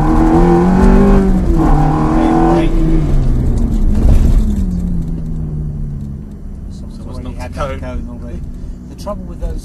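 Ferrari F430 accelerating on a race track, a loud engine note rising and falling close by under steady conversation, fading somewhat toward the end.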